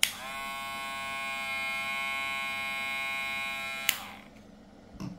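Hair clipper fitted with a new brushless motor, lever and blades, running with a steady, even whine and rich harmonics for about four seconds, then switching off with a click and a few faint handling sounds.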